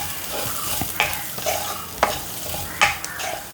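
Coriander powder, garam masala and pepper powder frying in a pan for a masala curry, a continuous close sizzle broken by several sharp spoon scrapes and clinks against the pan.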